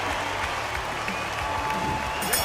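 Capacity crowd applauding and murmuring in an Undisputed boxing video game, a steady wash of clapping throughout with a commentator's voice over it.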